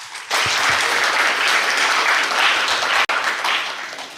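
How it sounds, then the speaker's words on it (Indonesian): Audience applause fills a hall at a campus event, a loud, steady roar of many hands clapping that swells in quickly and holds for about four seconds, with no voices over it. "Tepuk tangannya lagi ya"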